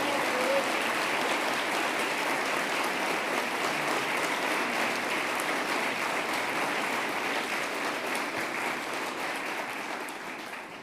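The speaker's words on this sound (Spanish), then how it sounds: "Y quiero pedir un aplauso especial para el capitán de navío que hizo todo esto posible, el coloso Federico Sturzenegger." An audience applauds during a speech by Argentina's president, a sustained, even wash of clapping heard from a distance, fairly faint, easing slightly near the end.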